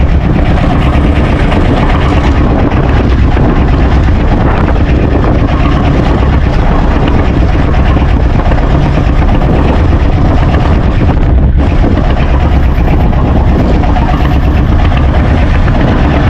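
A boat engine drones loudly and steadily from start to finish, a close, constant low rumble with only a momentary dip partway through.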